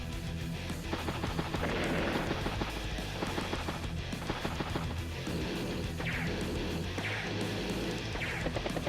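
Gunfire and impact bursts from attacking units, such as tanks, bikes and a battlecopter, in the video game Advance Wars: Days of Ruin. The shots and crashes clatter in repeated volleys over steady, loud game music.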